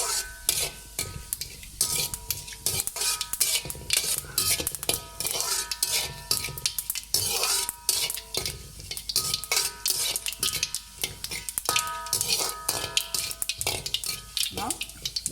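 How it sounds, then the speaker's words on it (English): Fennel seeds sputter and crackle in hot oil while Pepper Chicken cooks, sharp little pops scattered irregularly among clinks and scrapes of a metal utensil against the pan, close and fairly loud throughout. "I'm going to put this inside. You can hear the bursting sound."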